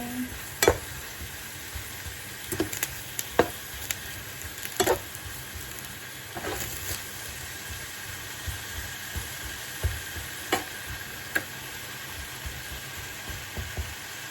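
Apples caramelizing with agave syrup in a pan, giving a steady, close sizzle broken by irregular scrapes and clicks of stirring, with no voices.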